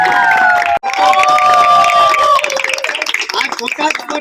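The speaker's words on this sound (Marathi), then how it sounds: "आपण सर्वांनी जोरात टाळ्या वाजवून त्यांचे स्वागत" A festival crowd cheers and shouts at a village Brahmandev celebration in Kankavli, loud and dense throughout, with a voice over a PA carrying on above the noise, though individual clapping is hard to pick out.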